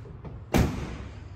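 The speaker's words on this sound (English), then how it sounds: "Door closes real nice." Car door on a classic barn-find car swinging shut with a single solid, close thump after a faint earlier click.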